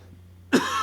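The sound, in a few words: cough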